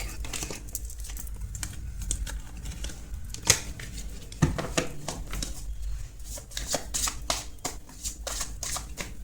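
Tarot cards are shuffled and drawn close up, with a dense run of quick papery riffles and flicks and a few sharper snaps. No one speaks.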